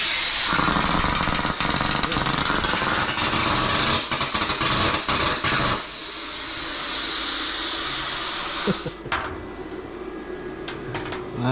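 A DIY CNC plasma cutter cuts metal with a loud harsh hissing roar that crackles and sputters unevenly, then changes tone and cuts off into quieter clicks and rustles.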